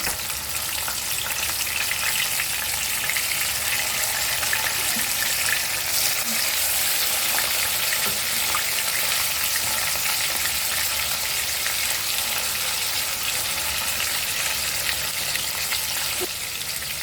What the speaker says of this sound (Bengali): তেলটা গরম হয়ে গেছে, মাছগুলো ছেড়ে দিচ্ছি একে একে।